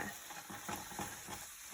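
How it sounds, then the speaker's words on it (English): Oil sizzles steadily in a hot, shimmering pan, a soft continuous crackle close by with no talking over it. "We should hear some sizzle."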